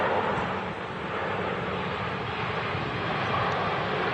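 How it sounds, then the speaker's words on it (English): A three-year-old Lufthansa A320 airliner landing at Manchester Airport after a flight from Munich, a steady broad engine roar and rushing air heard from a distance, fairly loud and constant, with no talk. "this Lufthansa A320 3-year-old aircraft, it's just dropped in from Munich after a 1 hour 41 minute flight"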